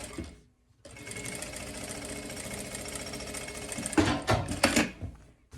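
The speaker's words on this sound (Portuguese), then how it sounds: "eu tô costurando em cima da costurinha que foi feita do lado de lá pra prender o meu tecido" A sewing machine runs close and steady for about three seconds, stitching over an existing seam on a bath towel, then gives a few uneven, louder chugs as it slows and stops. No one speaks.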